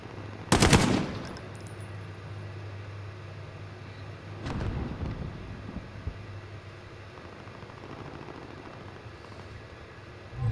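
Gunfire in the video game Call of Duty: Modern Warfare comes as two sharp bursts, one early and one midway, over a low steady hum with quieter scattered crackles.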